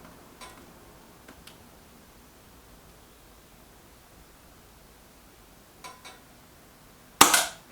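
A Reximex Mito S air rifle fires a .177 JSB pellet. After a long quiet stretch with a few faint ticks, a single loud, close shot snaps out near the end.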